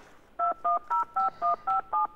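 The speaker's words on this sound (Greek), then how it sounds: "Κάποιος παίρνει παράλληλα με το τηλέφωνο αυτό." Seven evenly spaced telephone dialing tones on a phone line, each a short, clear dual-pitch beep in a steady rhythm over a faint hiss, with no talking.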